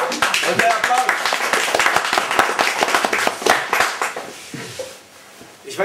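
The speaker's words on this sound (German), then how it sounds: "Okay, Applaus." A comedy show audience gives a burst of clapping and applause that is dense at first, thins out toward the end and then briefly picks up again, with voices mixed in.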